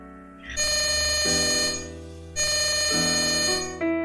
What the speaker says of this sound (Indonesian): telepon yang masuk